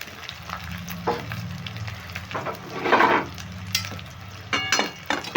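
Mourala fish paturi wrapped in bottle-gourd leaves cooks in a covered pan as the last water dries off, giving a steady close sizzle and crackle with a few sharper spits and pops.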